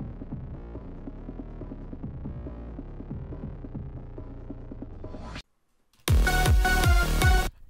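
Kick drum samples auditioned one after another in music production software for an FNF track: a run of deep, booming low thumps, then a short silence, then a louder, punchier kick pattern over a bright backing.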